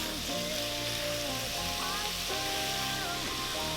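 Beef stew meat sizzles in olive oil at the bottom of a multi-cooker, a steady, dense hiss with a faint hum underneath that keeps going without a break.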